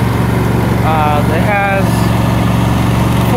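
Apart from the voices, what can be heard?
Husqvarna YTH22V42 riding lawn mower engine running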